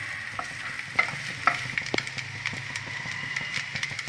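Ingredients for coconut rice sauté in a pan, giving a soft, steady sizzle with frequent light spatula taps and scrapes, fairly quiet and close, with no one speaking.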